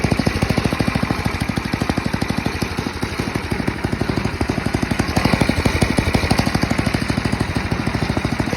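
A salvaged snowblower engine, pulled from a trash pile and still a little cold, idles with a steady rapid chugging that stays loud and close throughout, with no talk over it.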